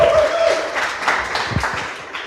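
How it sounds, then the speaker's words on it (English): A crowd applauds a presenting team at a coding bootcamp demo day, a continuous wash of clapping that holds steady and tapers slightly over two seconds. "on les applaudit bien fort"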